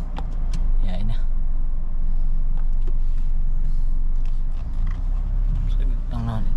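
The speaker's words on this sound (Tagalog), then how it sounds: "andito na tayo sa loob ng sasakyan at lalarga na tayo" A car pulls away, heard from inside the cabin as a low, steady engine rumble with road noise, while someone talks intermittently over it.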